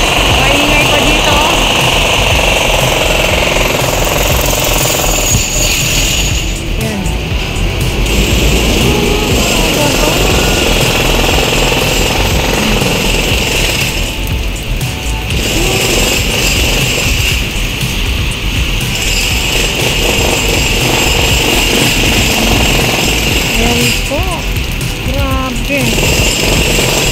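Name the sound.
heavy rain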